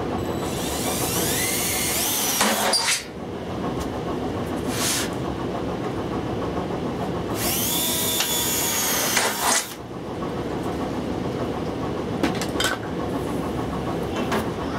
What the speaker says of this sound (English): take a drill and put holes on either end of the middle seam